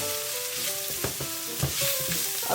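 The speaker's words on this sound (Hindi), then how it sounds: "चिकन के साथ ही हम डाल देंगे जो हमने 2 टेबलस्पून हमने फ्लावर रखा हुआ है, ये हम डाल देंगे ताकि साथ ही ये भी भुन जाए" Chicken pieces and flour frying together in a pan, a steady close sizzle with small stirring scrapes and clicks throughout, no voices.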